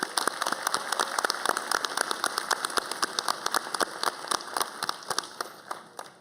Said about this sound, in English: Turn around and give them a round of applause.